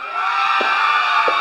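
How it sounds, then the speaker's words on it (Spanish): Audience at a nighttime contest show applauding and cheering for a contestant named Darling, a steady dense wash of clapping and crowd noise, loud and sustained, with a couple of brief shouts poking through. "¡Aplauso para Darling!"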